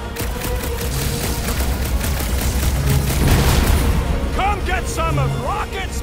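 Rocket's Gauss gun firing in the video game Marvel's Guardians of the Galaxy, a continuous barrage of loud shots and booms mixed with battle noise, while characters shout over the fighting.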